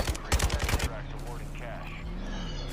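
Rapid bursts of gunfire in the video game Call of Duty Warzone crack out close and loud in a tight cluster of shots, then cut off and leave a low ambient hum with faint background sounds.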